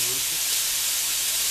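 Sausage cooking in a pan gives a loud, dense, continuous hiss and sizzle up close, steady throughout with no pauses.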